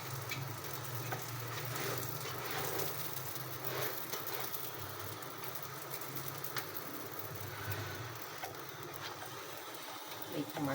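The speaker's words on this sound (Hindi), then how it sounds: "हल्की आंच रखी हुई है ताकि अच्छी तरह ऑमलेट भी ये पक जाए" An omelette fries in a pan on low heat, giving a steady soft sizzle and hiss with faint stirring scrapes, while a voice talks quietly over it.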